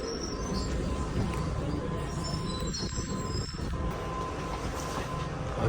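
A Heathrow airport train rolls along with a steady, close rumble and hum heard from inside, with faint squeaks from the wheels and carriage.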